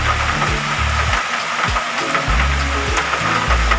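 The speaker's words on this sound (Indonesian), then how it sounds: "hujannya cukup deras pemirsa" Heavy rain falls steadily and densely outdoors during a search for Hokianti bonsai material, a loud continuous wash of drops with low knocking thumps mixed in.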